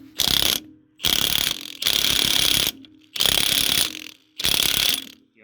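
Milwaukee impact wrench hammering on a hydraulic cylinder of an antique Case 530CK tractor backhoe, five loud close rattling bursts of about half a second to a second each, separated by short pauses.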